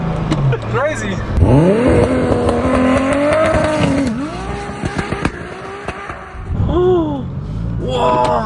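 A 1200 hp Audi S3 launching hard with wheelspin, engine roaring and rising in pitch through the gears with tire squeal, loud and close, while people talk and exclaim over it.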